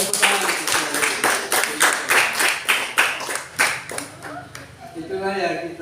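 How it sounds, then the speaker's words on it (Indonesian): A church congregation clapping hands during a child dedication service, sharp rhythmic claps in a steady beat that is loud and close, then thinning out toward the end. "Tepuk tangan."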